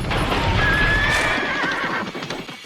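A carriage horse lets out a loud, drawn-out neigh while its hooves clip-clop close by. The whinny tails off as the hoof clatter keeps going underneath, and no one speaks.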